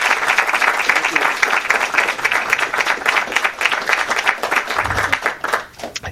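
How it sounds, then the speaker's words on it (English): Audience applause at the presentation of the 2014 Russell L. DeSouza Award, a dense, steady crowd clapping that holds loud for about five seconds and then thins out. "let's have a big round of applause"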